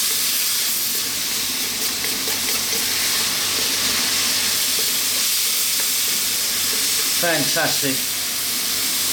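Chicken fried rice steams and sizzles hard in a very hot pan, deliberately scorched for flavour. The loud, continuous frying hiss runs throughout, and someone briefly speaks over it.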